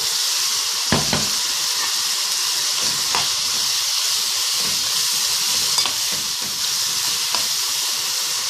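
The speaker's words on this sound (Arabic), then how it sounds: "هسيبهم على النار شويه كده، دقيقه كده ولا دقيقتين لحد ما البصله تدبل" Chicken livers, gizzards and chopped onions sizzle steadily in a hot pan, a continuous close frying hiss with occasional stirring scrapes and no voices.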